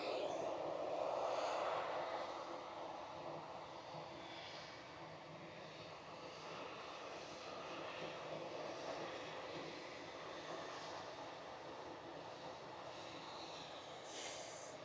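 A TUI airliner at Manchester Airport roars at a distance, its engine noise a broad steady rush that swells slightly at first and then holds, with no talk.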